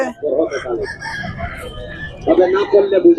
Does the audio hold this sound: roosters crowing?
yes